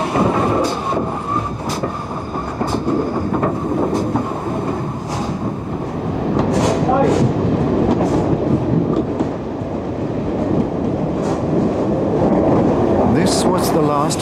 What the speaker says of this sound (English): The regular train returns from the Bridge North direction behind 6353